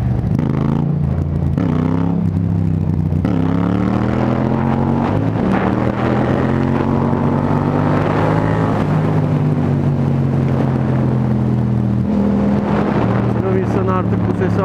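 A car engine revs on a December outing in Sinop, a loud, steady harmonic drone that swells and shifts in pitch partway through, then settles back, close and continuous.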